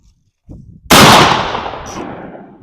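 A single loud, close 10 gauge shotgun shot firing a .730 round ball at an outdoor range, a sharp blast that decays over about two seconds, preceded by faint handling noise.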